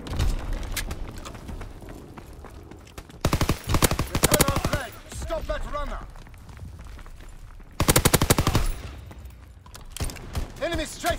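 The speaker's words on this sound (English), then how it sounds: "Enemy strafing run inbound" In a WWII capture-the-flag video game, an enemy strafing run unleashes rapid bursts of machine gun fire, loud and rattling, mixed with game announcer voices and other battle noise.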